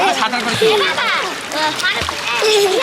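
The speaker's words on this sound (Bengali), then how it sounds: "দেখো ওরা সাঁতার করতেছে" Children splashing and sloshing water in a pond while swimming, with irregular close splashes mixed under lively talking voices throughout.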